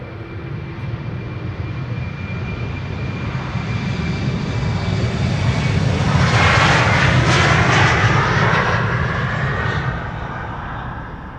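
A KLM airliner takes off at Amsterdam Schiphol Airport, its jet engine roar building steadily from a distant rumble to a loud, close peak before fading slightly.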